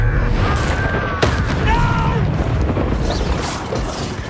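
A Confringo fire-blast spell going off in the Hogwarts Legacy video game, a booming burst with a sharp crack near the middle, set among continuous game effects and rumbling background sound.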